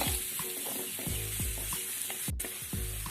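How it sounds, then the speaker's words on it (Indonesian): Chopped carrots are stir-fried in a pan for a fried-bread vegetable filling, giving a constant sizzle and a regular series of spatula scrapes and stirs, close and even, with no one speaking. "kita masukkan wortel yang sudah kita rajang-rajang tadi"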